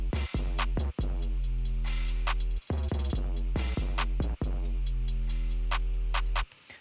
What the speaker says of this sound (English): our loop in Ableton sounds like this